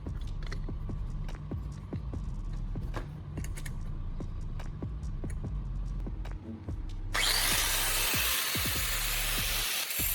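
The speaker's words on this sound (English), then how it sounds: "I use a grinding disc on the angle grinder to polish and sharpen each tooth." An angle grinder with a grinding disc sharpens the teeth of a steel plate, giving a continuous loud whine with rapid clicking hits, then a harsh hissing burst of grinding near the end.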